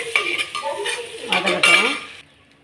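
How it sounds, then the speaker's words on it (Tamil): Whole onions sautéing in a pan for a village-style fish kulambu, with stirring scrapes and clinks of a utensil against the pan over a soft sizzle, close and steady, ending abruptly. "வெறும் முழு வெங்காயத்தை இதை மட்டும் நல்லா வதக்கிக்கிடலாம்"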